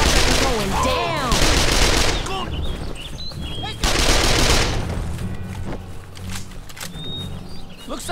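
Loud, rapid automatic gunfire from the shooter Call of Juarez: The Cartel erupts in two dense bursts, followed by scattered shots and echoing impacts, with voices shouting between them.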